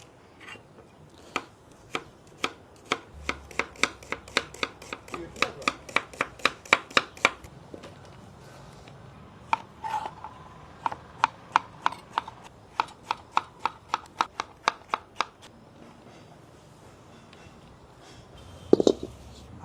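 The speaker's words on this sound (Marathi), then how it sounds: "ग्रेव्हीसाठी आपण कटिंग करून घेतोय।" A knife chops ingredients for murgh musallam gravy on a cutting board in quick rhythmic runs of sharp, close taps. The runs pause briefly and then resume, and a louder clatter comes near the end.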